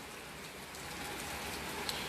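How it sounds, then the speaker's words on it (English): Steady rain falls on a stormy day, a dense, even hiss of drops spread across the whole clip with no breaks, fairly soft and continuous, with no voices over it. "it's gonna rain like this tomorrow"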